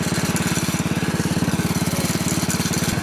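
A Bolens tractor engine runs steadily after startup with the choke fully open, a fast, even, loud chugging putter heard up close with no talk.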